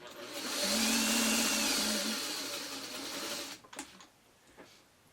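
A sewing machine stitches a quilt block, a steady close motor hum with rapid needle chatter running for several seconds, then stopping, followed by a few light clicks and handling knocks.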